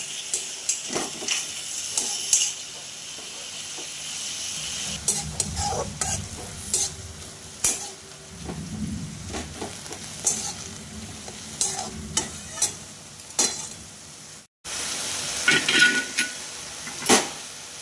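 Boiled moringa leaves are stirred in a pan to dry off the remaining water, with repeated scraping strokes of a spatula over a soft sizzle, close and fairly quiet, no talking.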